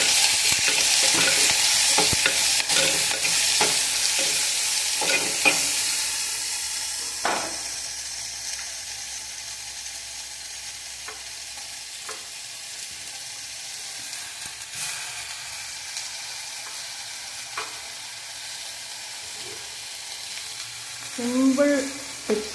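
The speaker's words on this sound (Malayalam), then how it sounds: "ചട്ടിയിലേക്ക് ഇട്ടിട്ട് വഴറ്റാം." Green chillies and garlic sauté in a pan, with a loud sizzle at first that settles into a quieter crackle. Scraping stir strokes and clicks recur throughout, and a spoon scrapes again near the end.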